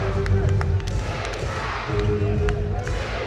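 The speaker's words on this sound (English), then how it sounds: "The crowd is so loud right now." A loud crowd roars and cheers at a 36ers versus Wildcats basketball game, dense and sustained, with ball thumps and sharp bursts standing out and a commentator's voice running over it.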